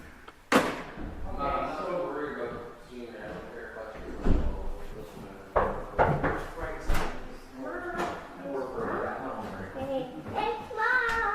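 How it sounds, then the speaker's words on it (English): A small child shuts doors one after another in an apartment, making several distinct thuds and slams. A voice and adult talk carry on over and between the knocks. "He's shutting all the doors."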